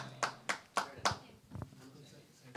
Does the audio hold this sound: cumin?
no